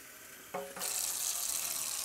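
Water pours from a tap into the reservoir of an MSR Guardian water filter, starting with a short splashing gush and settling into a steady, close rushing stream.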